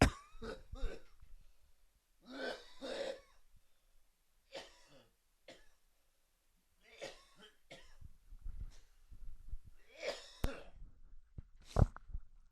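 Several separate bursts of coughing, close and fairly loud, spaced out over a quiet background with short pauses between fits.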